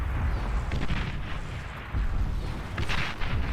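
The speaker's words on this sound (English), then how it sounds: "He's just taking artillery fire." Artillery fire in the real-time strategy game Beyond All Reason lands as dense, booming explosions and thuds during a tank battle, a continuous rumbling barrage with a few sharper blasts.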